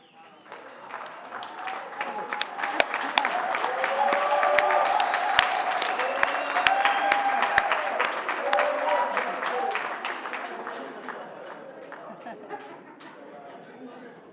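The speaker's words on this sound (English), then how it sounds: "may he be allowed to stand up so we can give him a round of applause" A crowd at a State of the City Address gives a round of applause, a long, fairly faint wash of many hands that swells and then fades, with voices and chatter mixed in and a few sharper claps standing out.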